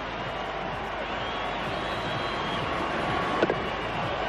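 A big crowd at a one-day international cricket match in Cape Town roars steadily throughout, a broad continuous wash of cheering with no clear peaks or pauses.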